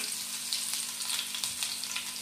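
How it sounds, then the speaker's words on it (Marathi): Chopped garlic and green chillies fry in hot oil in a kadhai, a bright, dense, close sizzle with fine crackling that stays steady throughout and has no voices over it. "आता आपल्याला एका कढईमध्ये तेल घालून घ्यायचं आहे। आपल्याला याच्यामध्ये लसूण चॉप केलेले घालायचे आहे"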